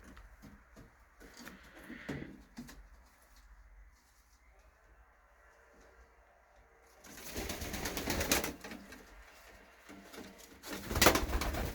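Pigeons cooing in a loft, soft low coos and rustling heard faintly at first, then louder bursts of movement and noise later on.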